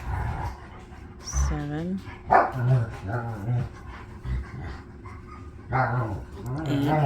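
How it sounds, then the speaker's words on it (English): Dogs in a house bark, yip and pant in short, fairly close bursts while a person counts aloud and talks over them. "Sorry about the dogs."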